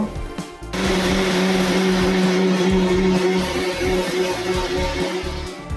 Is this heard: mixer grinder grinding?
yes